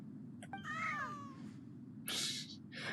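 A small cat meows in the video game Genshin Impact, one drawn-out rising and falling meow in the first half, followed by louder bright bursts of game sound effects.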